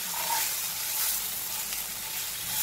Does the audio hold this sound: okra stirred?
yes